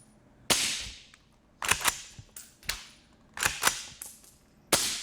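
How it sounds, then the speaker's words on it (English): Suppressed gunshots from a firearm using subsonic ammunition, about five sharp cracks fired at irregular intervals with short decaying tails, close and fairly loud with no talking. "But listen how quiet subsonic ammo becomes."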